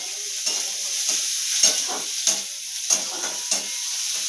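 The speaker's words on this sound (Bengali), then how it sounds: "আমি পেঁয়াজ কুচি এবং রসুন কুচি দিয়ে দিচ্ছি সবগুলো ভালো করে এই মশলার সঙ্গে ভালো করে ভেজে নেব" Chopped onion and garlic frying in oil with cumin, bay leaf and spices, a bright continuous sizzle broken by regular stirring scrapes about every half second, close and alone.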